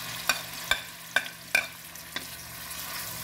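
Small dried shrimp stir-frying in a pan, a steady sizzle broken by five sharp spatula scrapes at an even pace, close and without any talking.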